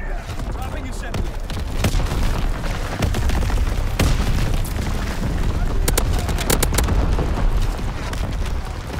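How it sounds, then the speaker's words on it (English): Incoming enemy artillery in a video game, a dense, continuous barrage of loud booming explosions and crackling blasts that rolls on without pause from start to finish. "Incoming enemy artillery."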